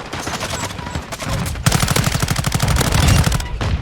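Bursts of rapid automatic gunfire from Call of Duty: Modern Warfare II, loud and close. Choppy fire gives way to a sustained rattling stream.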